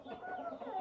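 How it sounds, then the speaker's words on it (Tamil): Farm chickens back from free-range foraging cluck together at lunchtime feeding, a steady, busy murmur of fowl at close range with no pauses, brief and moderately loud. "நம்ம பண்ணையில் உள்ள கோழிகள் எல்லாம் மேய்ச்சலுக்கு போயிட்டு லஞ்சுக்கு இப்போ தான் வந்தாங்க."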